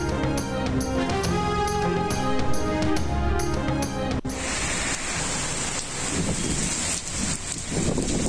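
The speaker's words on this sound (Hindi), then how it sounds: "कहीं तेज़ तो कहीं हल्की बारिश" Rain falls over Islamabad and Rawalpindi as a steady, dense hiss that takes over about halfway through, after a short burst of music. It continues evenly to the end with no voices.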